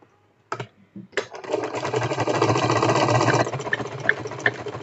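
A sewing machine runs a continuous stitching burst on a cigar pant after a couple of short starts, then slows into a few separate clicks.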